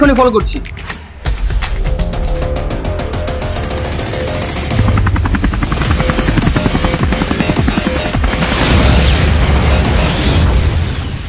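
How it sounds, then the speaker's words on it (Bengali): Helicopter sound effect for an action short film, a loud rhythmic rotor chop that swells and grows denser over time, mixed with booming effects. "তুমি তাড়াতাড়ি আর্মিদের কাছ থেকে হেলিকপ্টার নিয়ে ওকে ফলো করো"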